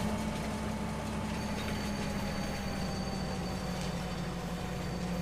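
Train in the video game Farming Simulator 25, a low steady engine drone with a hum like an idling locomotive, constant and moderately quiet, with no talking.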